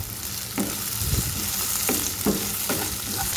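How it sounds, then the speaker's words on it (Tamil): Bitter gourd slices fry in a pan with a steady sizzle while a spoon stirs them, giving several distinct scraping clinks over the hissing oil. "இதை வந்து மூடி வச்சு ஒரு 3 நிமிஷம் நல்லா நம்ம ஃப்ரை பண்ணி எடுத்துக்கலாம்."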